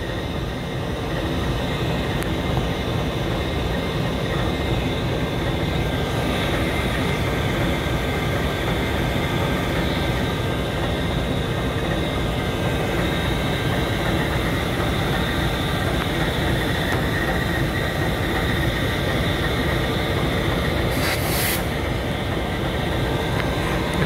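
CSXT locomotive #156 and the other engines of a tied-down spray train idle at the NE Bearswamp, a steady loud diesel rumble and drone that continues unchanged, with no voices.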